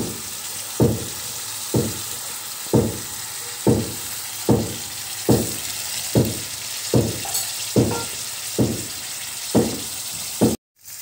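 Lentils fried in a pan with tomatoes, giving a steady loud sizzle throughout, with regular scraping strokes of a stirring spoon about once a second, ending in a sudden cut to quiet.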